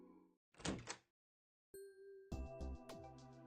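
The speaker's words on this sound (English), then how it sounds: "Then after a heavy knock, the door of the booth flung open." In the Steins;Gate 0 visual novel, a heavy knock followed by a booth door flung open, a short thudding burst, a pause, then a clattering door opening with ringing metallic tones.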